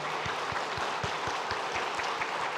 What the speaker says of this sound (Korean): 잠깐 자리에서 일어나시면 큰 박수로 환영하겠습니다